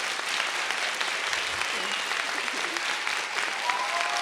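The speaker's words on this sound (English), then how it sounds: "Can you join me in applauding these two brilliant scholars" Sustained applause from an audience honoring two scholars at a forum event, a dense, steady wash of clapping that continues at even loudness throughout.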